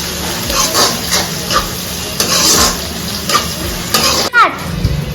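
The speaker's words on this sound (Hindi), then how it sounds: "और थोड़ा सा भून रहे हैं" Chicken masala paste frying in a pan for a chicken saag, a steady close sizzle with occasional stirring scrapes and clinks running through the whole stretch.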